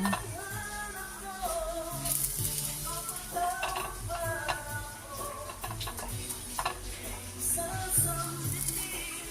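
Garlic frying in a home kitchen pan for escabeche, a soft sizzle under scattered clicks and stirring taps, while someone talks and background sounds come and go.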